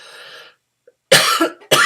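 A person with a sore throat gives two sharp, close coughs in quick succession after a moment of near silence.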